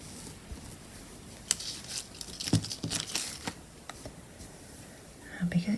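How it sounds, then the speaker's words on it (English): A one-metre length of ribbon being folded in half for a bouquet rustles and rattles as it catches on scissors and a pencil, with soft papery crinkles and light ticks scattered through the clip. "you can probably hear rustling and rattling off the side, and that's because it's caught on my scissors and a pencil and all sorts of things"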